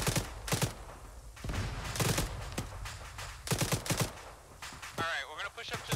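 Repeated bursts of rifle and machine-gun fire in the military video game Arma 3 crack in clusters, some close and loud, others more distant, with a voice briefly speaking among the shots.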